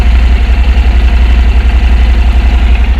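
A Honda NC700X motorcycle engine idles loud and close, with a steady low, throbbing pulse and constant vibration and no voices.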